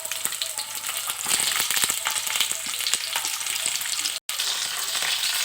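Something fries in a little oil left in the pan from frying onions, a steady close sizzle with crackling bursts and scraping stirs, briefly cut off near the end.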